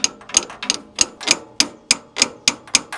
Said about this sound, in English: I'll get a big screwdriver and I'll kinda tap it in with a hammer a little bit